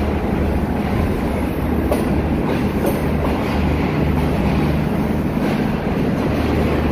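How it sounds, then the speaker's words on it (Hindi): Green Line Express passenger train running in Pakistan, a steady loud rumble of wheels on rails with continuous low roar and wind, unbroken throughout with no talking. "green line express"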